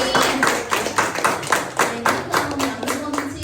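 An audience at a testimony gathering claps for a mother in a steady, even rhythm, with about four sharp, close claps each second and no talking.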